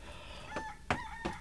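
A rooster crows several times in short bursts, loud and close, with faint background noise between calls.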